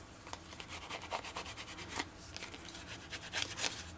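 A small scraper tool rubs vinyl down onto an acrylic sign: quiet, close, continuous back-and-forth rubbing strokes that swell and fade in an irregular rhythm, with no talking.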